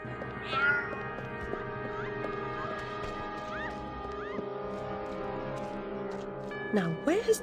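In Alice Madness Returns, a game cat gives a short meow early on and another rising cry near the end, over a steady game backdrop with voices.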